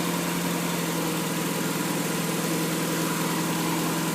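A Mazda Miata engine idles at a steady, even speed, a continuous close-up hum with a fine regular pulse and no voices.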